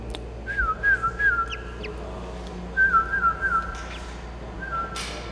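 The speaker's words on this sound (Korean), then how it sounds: "휘파람을 불어줘 새끼를 안심시키고 반응을 확인합니다" A person whistles to soothe a newly hatching crested ibis chick during an assisted hatching; three clear, gliding whistled phrases come in close succession, separated by short pauses.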